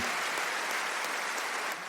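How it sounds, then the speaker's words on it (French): A congregation at a Bible study applauds steadily, a dense wash of clapping at constant volume for the whole stretch. "Un applaudissement pour notre sœur."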